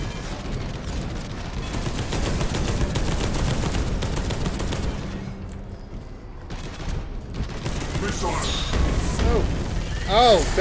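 Missiles and heavy weapons fire in the Space Hulk: Deathwing video game, heard as a rapid, dense barrage of booming shots. A brief lull is followed by more bursts and a rising whoosh near the end, with some voices.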